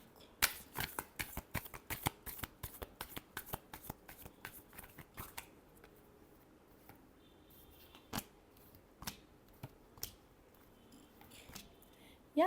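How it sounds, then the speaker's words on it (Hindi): Tarot cards being shuffled: a quick burst of rapid crisp riffling snaps for about five seconds, then a few scattered single card taps and flicks, close and fairly quiet. "last shuffle"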